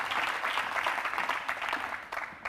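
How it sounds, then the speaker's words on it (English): Audience applause at a social innovation pitching competition, a brisk burst of many hands clapping that holds steady before thinning slightly near the end. "Big applause for you, both of you."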